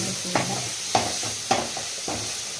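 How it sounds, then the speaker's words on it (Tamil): Coconut milk for biryani bubbles and simmers in a pot, with a few sharp stirring knocks every half second or so. No voices. "நல்லா கொதிக்குதுன்னு பாருங்கள் இந்த தேங்காய் பாலோட பச்சை வாசம் போச்சுன்னா நம்ம இறக்கிடலாங்க"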